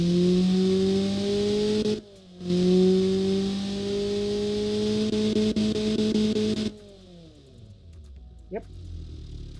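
A bored-out Honda D16V1 engine idles steadily with a loud, even hum, briefly dipping near the start, then cutting out abruptly toward the end before a short whoosh.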